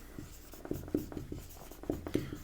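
Chalk or marker writing on a board during a Class 12 physics lecture on motional EMF: close, irregular tapping and scratchy strokes in quick bursts, with no speech over them.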